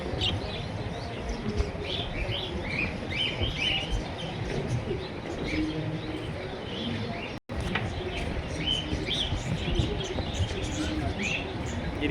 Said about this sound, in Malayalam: ഒരു ആഫ്രിക്കൻ തത്തയാണ് ഇരിക്കുന്നത്